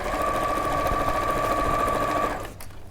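A sewing machine runs a regular straight stitch across fabric, a close, steady, continuous whir with a constant tone for over two seconds before it slows and stops.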